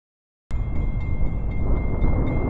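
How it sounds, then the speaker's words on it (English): A train rolls past at close range during a trackside railfanning session in mid-August, a loud steady rumble of wagons with a faint high metallic whine above it, starting abruptly and holding level with no voices. "there it goes, another train"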